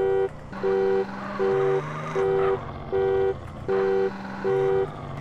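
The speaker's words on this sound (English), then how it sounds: "the alarm doesn't sound good" An alarm blares in Grand Theft Auto: San Andreas as a steady repeating two-tone electronic beep, about seven even pulses over a low engine-like hum.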